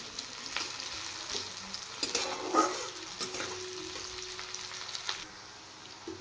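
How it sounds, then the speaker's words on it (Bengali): Onions fry in a pan for a fish dal, with a soft, continuous sizzle broken by scraping stirs of a spoon against the metal. The sound is fairly quiet and close, with no talking. "এবার পেঁয়াজগুলো একটু লাল করে ফ্রাই করে নেব"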